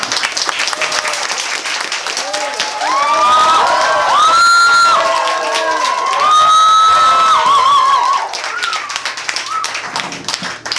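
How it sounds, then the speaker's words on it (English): A comedy club audience at a stand-up show claps steadily, the applause swelling into loud cheering and whoops before easing back to scattered clapping. "I'm going to come on, clap, intensify the clapping, and then properly cheering"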